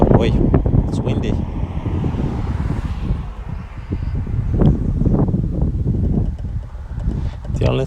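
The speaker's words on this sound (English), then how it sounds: "Oh boy, it's windy." Steady wind buffeting the microphone, a broad rumbling roar with gusts rising and falling throughout, under quiet talk.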